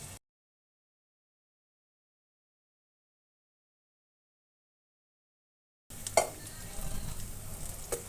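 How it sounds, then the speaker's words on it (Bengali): Pumpkin flower fritters frying in oil in a pan: after a long silence, a steady, close sizzle starts up and continues to the end. "এভাবে একটা একটা করে আমি এখন হালকা করে একটু ভেজে নেব।"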